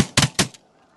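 Two sharp shotgun blasts ring out in quick succession while hunting snow geese over sheet water, loud and close, followed by a fading echo.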